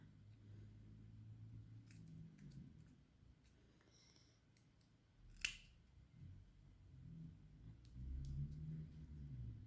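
Scissors cut out a paper card for a Mother's Day craft, quiet and close, with a few faint snips and one sharp clear snip partway through against a soft low rumble.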